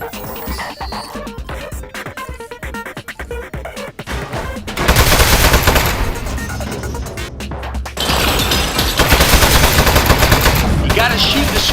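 Rapid bursts of gunfire crackle in the Aperture Desk Job video game, first as scattered sharp shots and then as dense, loud volleys, with game effects and a voice mixed in.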